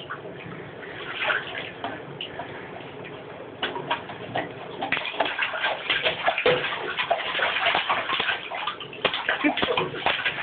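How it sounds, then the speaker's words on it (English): Water splashing and sloshing in a bathtub during a child's bath, close and irregular, growing busier toward the end, with soft cooing voice sounds. "You taking a big bath?"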